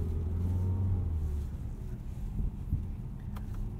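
A 2018 Mazda CX-3 pushing through deep snow on a winter road, its engine droning low with a brief rev, tires crunching and rumbling steadily beneath, heard from inside the cabin.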